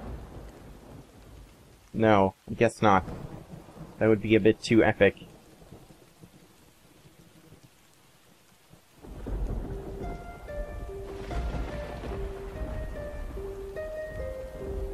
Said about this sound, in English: And now thunder strikes his guitar pick.